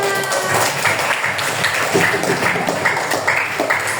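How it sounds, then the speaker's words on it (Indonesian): Children in a classroom applaud together, a steady dense wash of claps that holds at an even level for about four seconds. "beri tepuk tangan anak-anak"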